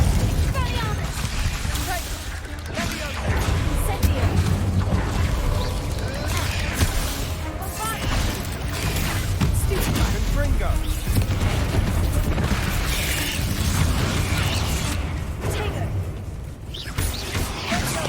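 Incendio fire spell blasts in the Hogwarts Legacy video game: continuous rumbling bursts and pops layered with mechanical game noise, loud and steady throughout, with speech mixed in.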